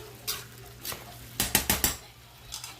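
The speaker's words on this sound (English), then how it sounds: "So now I'm going to stir it and try to, you know, grab the bottom, flip it to the top." A spoon scraping and knocking against a pot of parboiled rice cooked as arroz junto, a few scattered clinks, then a quick run of four sharp scrapes and a last soft tap, close and alone.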